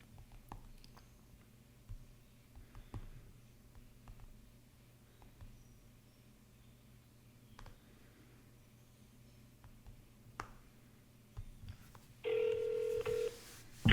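Telephone call being dialed while prospecting real-estate leads: a faint hum and scattered clicks, then a loud, steady electronic dial tone sounds alone over the last couple of seconds.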